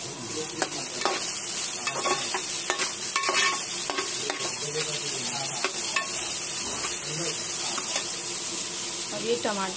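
Food frying and sizzling in a pan while being stirred, cooked until slightly soft before tomatoes and green chillies go in; a steady close sizzle with irregular scraping stir strokes throughout.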